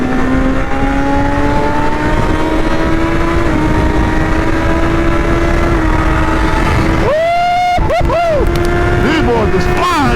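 A Kawasaki ZX10R sport motorcycle passes at speed, a loud sustained engine whine with steady tonal pitch that suddenly sweeps and Doppler-shifts near the end as the bike roars by close, with people talking over it.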